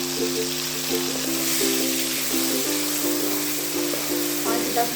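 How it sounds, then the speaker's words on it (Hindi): Half a kilo of chicken fries in a spiced masala for a peas and meat curry, giving a steady, close sizzle with soft bubbling and a low hum underneath. "पाँच से 10 मिनट चिकन की भुनाई करेंगे"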